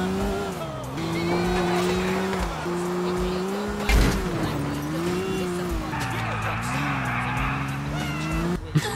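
Car in the video game GTA IV drifting, with an engine droning and its pitch rising and falling, plus tire squeal and a brief impact near the end, under steady game noise.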